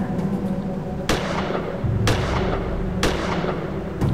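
Gunshots from the sci-fi adventure game Gemini Rue: four evenly spaced single shots about a second apart, each a sharp crack over a steady low ambient hum, with no talking.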